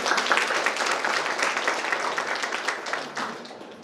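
Women at a Haldi-Kunku gathering applaud together in a short, fairly faint burst of clapping that fades over a few seconds, with no talking over it.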